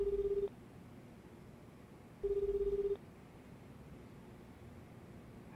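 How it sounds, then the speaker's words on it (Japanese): A phone in the video game Lost Judgment dials out: two identical electronic ringback tones, each about half a second long and spaced about two seconds apart, heard alone over a quiet background hiss. "電話しています。"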